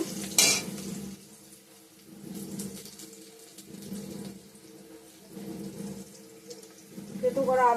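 Onion, dried chili, bay leaf, whole cumin and ginger frying in oil, a soft continuous sizzle with rhythmic stirring swells, close by, with a brief sharp clatter near the start and near the end.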